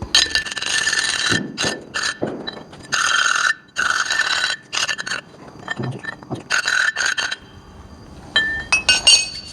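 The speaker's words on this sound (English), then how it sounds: "And just scrape it." Harsh metallic scraping comes in repeated bursts with short pauses, bright and grating, close up, with no talking.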